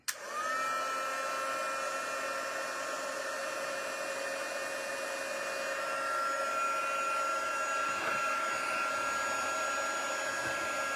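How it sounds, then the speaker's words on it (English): An embossing heat tool switches on with a click and blows continuously, a steady airy whoosh with a faint whine running underneath. "Now we're going to use our heat tool."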